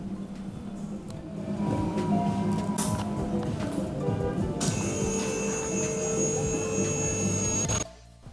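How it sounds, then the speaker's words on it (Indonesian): Hydraulic lift raising a Hyundai Avega at a fuel-station service bay: a steady mechanical hum and whine that grows louder, then a brighter tonal whir takes over midway before cutting off abruptly near the end. "Mobilnya udah mulai diangkat menggunakan mesin hidrolik"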